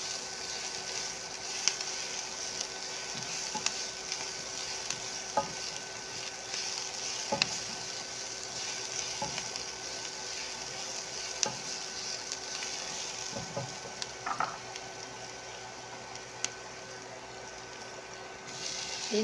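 Chopped garlic and onion fry steadily in a pan for carbonara, a continuous soft sizzle with occasional small ticks and stirring scrapes, with no talking.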